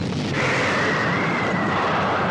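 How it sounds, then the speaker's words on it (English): A loud, sustained roaring movie explosion from the 1979 film Alien, with a deep rumble that fills the whole clip, no voices. "it was a huge explosion"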